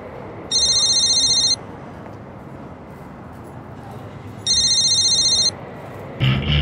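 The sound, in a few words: telephone ringing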